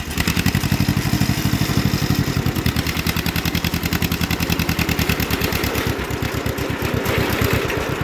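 A John Deere LI tractor engine driving in third gear thuds out a loud, steady, rapid exhaust beat throughout, close and continuous with a clattering mechanical edge.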